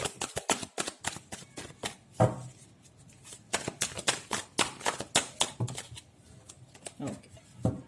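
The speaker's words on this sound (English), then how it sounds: "One last shuffle." Cards are shuffled in quick rapid riffles, a burst of crisp fluttering clicks repeating several times, close and fairly quiet.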